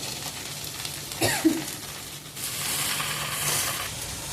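Washed green vegetables hit hot oil in a small kadai, with a brief clatter as they go in, then a steady, loud, broadband sizzle that carries on to the end.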